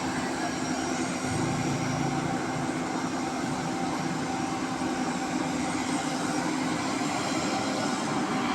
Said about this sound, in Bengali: এখন ফ্লাইট উপরে উঠবে